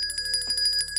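A bright bell sound effect, a high metallic ring with sustained overtones, struck repeatedly in a quick pulsing pattern over about a second, clear and alone.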